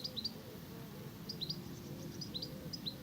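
A goldfinch sings from teasel and thistles beside a chalk path near Dorking, giving repeated short, high twittering chirps in small clusters. The bird sounds moderately distant, set over a steady low outdoor rumble.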